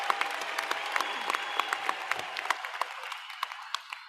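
A graduation audience at the Maple Heights City Schools Class of 2024 ceremony applauds families and friends. The clapping is loud and sustained at first, then thins into scattered, distinct claps that fade toward the end.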